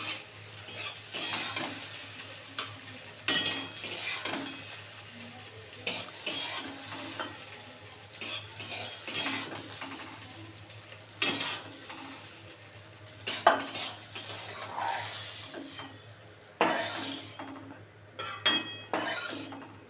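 Fried scrambled egg for dim bhujiya is scooped from a kadai into a bowl, making a run of intermittent metal scrapes and light clinks with short pauses, close by, with a soft background sizzle and no talking.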